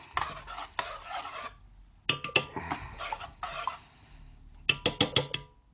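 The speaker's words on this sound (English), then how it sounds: "Give it a good stirring" A spoon stirs a homemade spiritual oil mixture in a container, with several bursts of clinking and scraping against the sides separated by short quiet pauses, close and clear.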